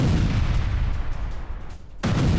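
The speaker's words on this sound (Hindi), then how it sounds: "ईरान की केमिकल फैक्ट्री में विस्फोट।" A continuous loud, rumbling roar from an explosion at a chemical factory in Iran, with broadband blast noise that briefly drops away and then surges back.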